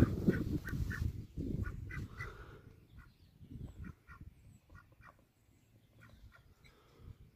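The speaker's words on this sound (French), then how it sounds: "je me suis fait une mare avec des canards rouans" Several Rouen ducks quack and honk in short bursts at a pond, some close and some further off, with outdoor rustling between calls and no talking.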